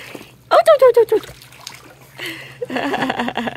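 A young child paddles and splashes water in a swimming pool with a swim learner float, bursts of splashing and sloshing after a short run of high excited vocal sounds, with talking in between.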